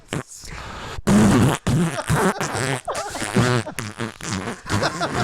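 A person mimics a fart with the mouth, giving several loud, buzzing, sputtering bursts in a row with short breaks between them.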